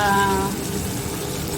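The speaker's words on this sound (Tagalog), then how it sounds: "Lagyan natin siya ng konting tubig." Water gushes and splashes into a pot, close and steady, with a brief tonal ring at the start.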